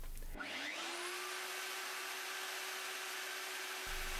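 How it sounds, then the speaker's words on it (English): A plunge router cuts into wooden chair wood during a chair repair, a loud sustained high whine running steadily for several seconds after spinning up, then cutting off near the end. "I plunge and cut to a preset depth."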